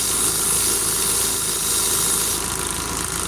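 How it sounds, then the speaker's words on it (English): A belt grinder runs a 4-grit Scotch-Brite finishing belt, producing a loud, steady broadband hiss and whir that stays constant throughout. "that's a 4-grit Scotch-Brite finishing belt"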